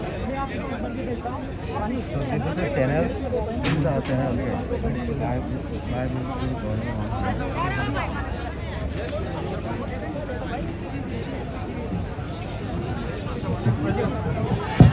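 An outdoor crowd fills the air with steady overlapping chatter and babble, a continuous mid-distance hubbub with a nearer voice talking over it throughout.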